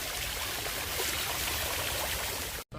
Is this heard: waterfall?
yes